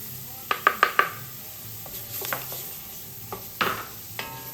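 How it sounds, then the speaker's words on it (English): Garlic drops into a pot of hot roux for a chicken and andouille gumbo and sizzles softly, with a quick run of sharp utensil clicks and scrapes against the pot, then a few more scattered stirs. "I'm going to go ahead and add the garlic now."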